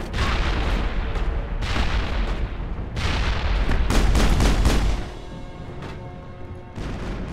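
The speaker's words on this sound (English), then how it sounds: "that grenade hurt us more than it needed to, honestly" Grenade going off in Mass Effect amid a firefight, a string of loud booms and gunfire bursts over several seconds, close and heavy, then fading to quieter rumble.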